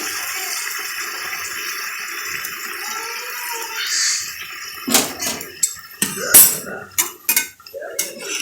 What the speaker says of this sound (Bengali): তো এবার জলটা দেব। এই জলটা দিচ্ছি।